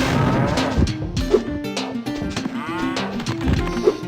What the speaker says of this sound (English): They also make an interesting mooing noise.